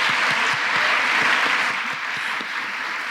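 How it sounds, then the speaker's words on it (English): A conference audience at the Cardinal O'Connor Conference for Life applauds its organizers, dense steady clapping filling the room at a constant loudness throughout, with no talk over it. "Can we just give a big round of applause for the incredible organizers?"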